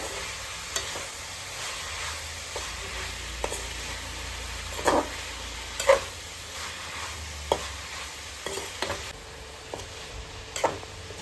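Onions frying in a pan for beef curry, a soft steady sizzle broken by intermittent scraping strokes of a spoon as they are stirred, moderately quiet and close.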